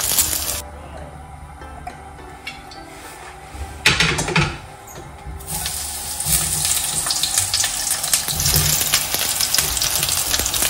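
Eggplant slices fry in oil in a pan over high flame, a loud crackling sizzle that swells as pieces are added and stirred, with occasional clinks of a utensil against the pan.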